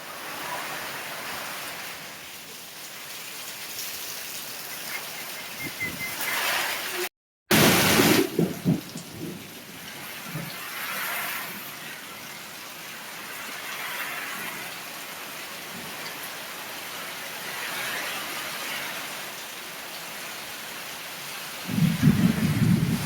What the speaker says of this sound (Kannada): ನೋಡು ನೋಡು ಮಳಿ ಹೆಂಗ್ ಬೀಳತೈತಿ.